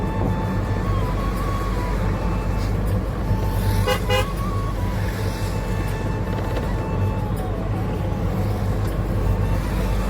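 Busy highway traffic roars past a roadside stop, a dense steady rush of vehicles with a short burst of horn toots around the middle, loud and continuous without speech.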